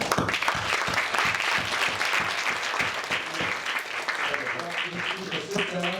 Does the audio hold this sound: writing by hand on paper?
no